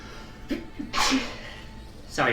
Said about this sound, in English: Had to sneeze.